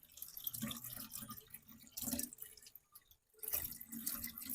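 Water pouring into a glass or cup: a soft, close trickle with a few splashy bursts and brief lulls, fairly quiet and with no voices.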